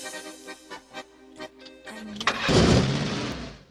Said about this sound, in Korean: 기적적으로 시동이 걸렸고